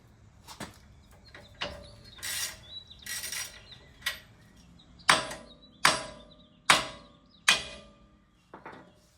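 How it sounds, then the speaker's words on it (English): Sharp metallic hammer taps on a steering castle nut of a Jeep Wrangler TJ, close by, a few scattered strikes and then a steady run of evenly spaced blows, each ringing briefly. "tap it with a hammer and let it fall through"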